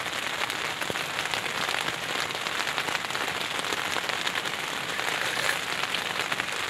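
Heavy rain drums steadily on a tent fabric, a dense continuous patter close overhead with no voices.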